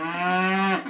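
A single cow lets out one loud, drawn-out moo close by, steady in pitch before tapering off at the end, on a cattle ranch during a working day of pregnancy checks and castration.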